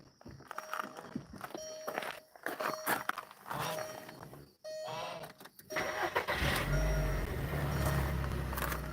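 A 2005 VW Beetle with an oil leak and a disconnected vacuum hose is cranked and started after some shuffling and handling noises, and its engine catches and settles into a steady, close idle.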